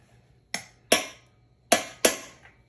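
Four sharp metallic strikes of a socket pounding a Harbor Freight replacement wheel onto a dolly axle over an internal tooth washer, in two quick pairs, close and loud against a quiet background.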